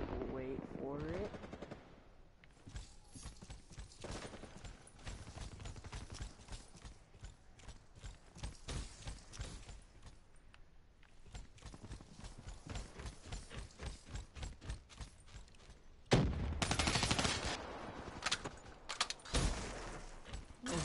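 Gunfire from close-range guns in a game, rapid bursts of sharp shots with a louder, denser barrage near the end, and a voice speaking briefly at the start.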